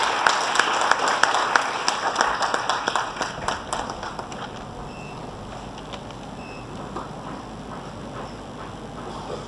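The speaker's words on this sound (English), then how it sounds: "Please give him a big round of applause." An audience at a university lecture event gives applause, loud and rhythmic at first with distinct claps, then tapering off into a quieter room tone with faint beeps after a few seconds.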